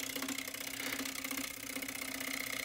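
Wood lathe spinning a walnut live edge winged bowl at about 1400 RPM, a steady whirring hum with a constant tone and airy rush of the cut, no talking over it.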